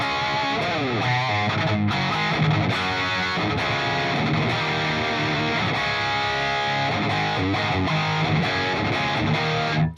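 Electric guitar played loud through a 100 watt amp head on its dirty channel with Line 6 HX effects, thick distorted chords and riffs ringing continuously and at full volume with no pauses.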